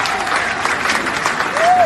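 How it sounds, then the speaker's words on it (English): An audience at a Nigerian political gathering applauds a 25 million naira donation, loud sustained clapping from a crowd with a faint whistle or voice rising briefly near the end. "Is that how you clap for 25 million?"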